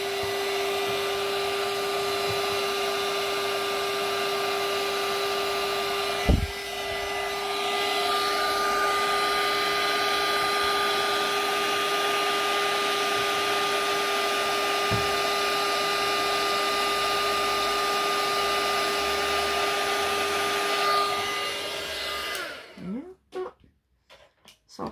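Heat tool blowing hot air to melt embossing powder on a scrapbooking flip book, a loud steady whirring hiss with a clear motor whine and a couple of clicks, running for about twenty seconds before switching off.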